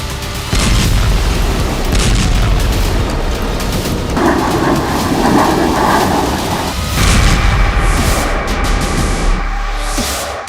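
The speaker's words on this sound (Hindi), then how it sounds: "ये वीडियो है एक ऐसी बमबारी का" Bombing explosions from a war zone in the Syrian civil war, heard as a continuous heavy rumble of booms and blasts that shifts in intensity partway through, loud and close with no voices.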